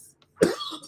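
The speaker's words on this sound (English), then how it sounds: "I got a uh cough tonight" A single short cough from a nearby adult, sharp and fairly loud, heard alone in a quiet indoor setting.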